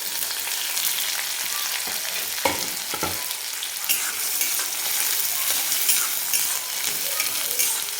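Finely chopped onion hits hot oil with cumin and sautés, giving a bright, continuous sizzle with stirring scrapes and a few sharp clicks. It sounds close and even.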